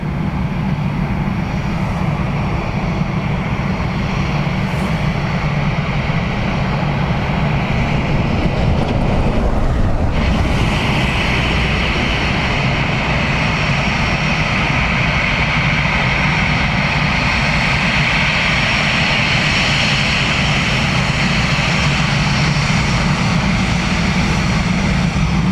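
An airliner lands on runway 28 left at Dublin Airport, its engines a loud continuous roar and whine that holds steady throughout, with a brief shift in tone near the middle.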